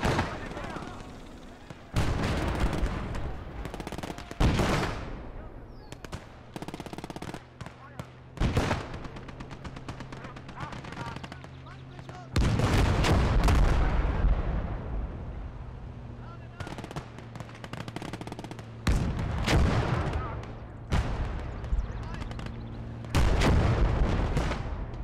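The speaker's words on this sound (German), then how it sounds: "ich brauche meine Artillerie hier" Heavy artillery and machine gun fire rumble through a World War II battle in the game Gates of Hell, with repeated loud booms and bursts at irregular intervals over a continuous din of combat, while someone talks now and then.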